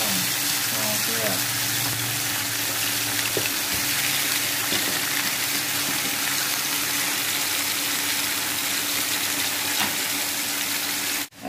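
Fish frying over low heat in a pan, a steady close sizzle and crackle that stays even throughout, with brief faint voices early on.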